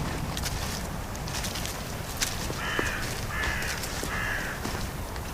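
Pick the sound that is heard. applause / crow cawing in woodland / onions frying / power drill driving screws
crow cawing in woodland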